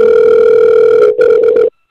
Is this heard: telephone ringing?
yes